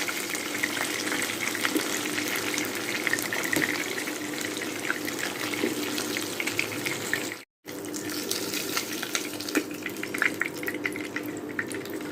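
Rui fish pieces frying in hot oil, a steady dense sizzle running throughout with a brief cut of silence midway, then the crackling resumes as the pieces are lifted out.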